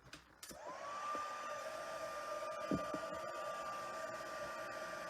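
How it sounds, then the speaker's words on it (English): Heat tool for a stamping craft technique switching on after a few clicks and handling noises, then a steady close whirring blow with a constant high whine that holds to the end. "So now I'm going to make a little bit of noise with the heat tool."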